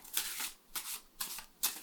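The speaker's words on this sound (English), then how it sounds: "tons of ways to shuffle, mix up the cards" Oracle deck of faerie-themed cards being shuffled and mixed by hand, four bursts of crisp papery riffling close up at a quiet level, no voices.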